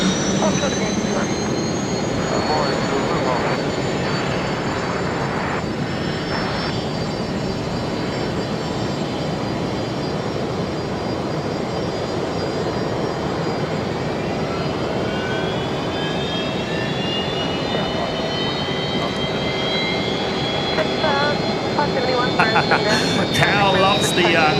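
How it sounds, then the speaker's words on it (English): A Fokker airliner's engines roar steadily at Brisbane Airport, with a rising whine building in the second half, while voices are heard at times. "loves the noisy Fokker"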